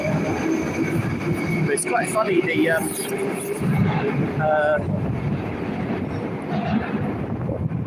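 A train pulls out of a Moscow railway station, a steady broadband rumble and rolling noise running the whole time beneath a voice, with some wind buffeting the microphone.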